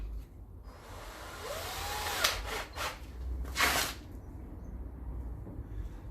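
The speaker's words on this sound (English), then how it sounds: "start putting a couple of rivets in." Two or three short mechanical bursts of riveting on a Land Rover Series rear quarter panel, fairly close over a steady background hum, with no speech.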